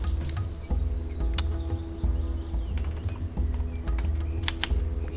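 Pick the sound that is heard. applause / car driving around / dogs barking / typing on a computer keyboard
typing on a computer keyboard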